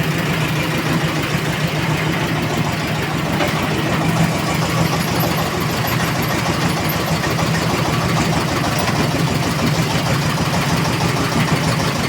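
A homemade tractor engine idles steadily at close range, a loud, even rumble with a regular low chugging pulse and no pauses.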